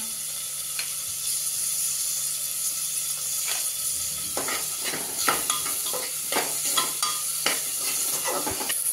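Onion and tomato with salt frying in a pan for ridge gourd sabji, a steady sizzle throughout with repeated spoon scrapes and stirring clatter growing busier in the second half.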